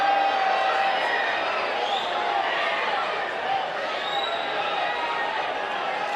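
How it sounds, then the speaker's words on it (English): A loud home crowd at a Knoxville soccer match between One Knoxville SC and AV Alta FC reacts to an uncalled foul, a broad, sustained roar of voices filling the stadium. "You hear the reaction from this loud Knoxville crowd."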